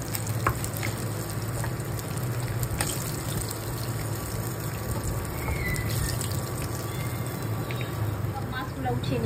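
Hilsa fish frying in hot oil: a steady, dense sizzle with crackle runs throughout, close and fairly loud, with faint clinks and a low background hum underneath.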